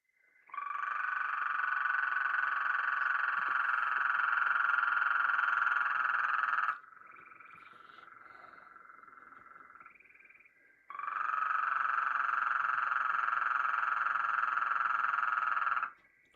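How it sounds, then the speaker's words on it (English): A Gulf Coast toad (Bufo nebulifer) gives a loud, long, sustained trill lasting several seconds, breaks for about four seconds while fainter calls continue underneath, then trills again for another five seconds. "So this is what the Gulf Coast toad sounds like."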